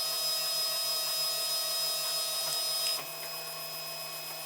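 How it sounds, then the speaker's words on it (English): A 3D printer lays down its first layer on blue painter's tape, with its motors giving off a steady, faint whir and hum throughout and a slight drop in level near the end. "I'm printing on blue painter's tape here"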